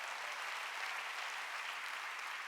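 A church congregation at a Korean Sunday worship service claps together. The dense, even applause is steady and continuous for a couple of seconds, without voices on top.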